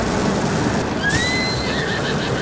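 A horse whinnies in Zelda: Tears of the Kingdom, a rising then falling neigh in the middle over a steady wash of outdoor game ambience.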